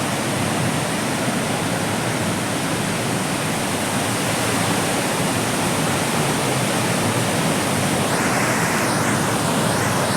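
Courtallam waterfall in a southern district of Tamil Nadu gives a loud, unbroken roar of falling water, dense and steady throughout, with no voices.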